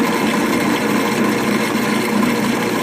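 A power drill bores into a wooden post for a DIY dollhouse deck and patio, a steady, loud, close whirring grind that holds without a break.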